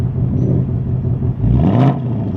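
A 2024 Ford Mustang Dark Horse with a 500 hp Coyote V8 sits in park with its valved exhaust in normal mode, a steady close rumble with a brief blip of revs near the end.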